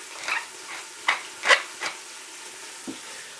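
Food sautéing in a pan with pepper added, giving a soft steady sizzle broken by several short scraping stirs, close and moderately loud, with no talking.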